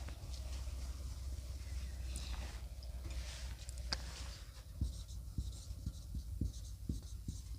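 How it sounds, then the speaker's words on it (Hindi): Chalk or marker scratching on a classroom board during a twelfth-grade maths lesson on inverse trigonometric functions, a run of short strokes and taps close by over a steady low background hum. "इसको ठीक से थोड़ा सा लिखते हैं।"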